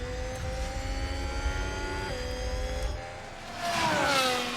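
An F1 car driven by Norris pulls away from a pit stop in F1 Manager 22 at Bahrain, its engine tone climbing in steady steps, then swelling louder as it accelerates away.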